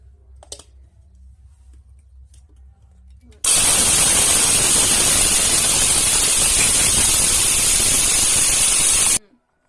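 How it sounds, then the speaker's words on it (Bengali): An electric mixer grinder crushes garam masala spices (cardamom, cloves and black pepper). After a few quiet seconds it starts abruptly into a loud, even roar that runs about six seconds and then cuts off. "মিক্সিতে দিয়ে দিচ্ছি।"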